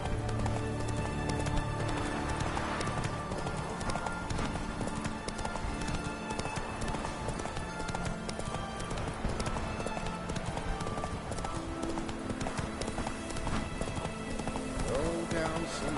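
Roach the horse gallops through Witcher 3 in a steady, rapid clip-clop of hooves that runs throughout at moderate level, with a voice talking over it.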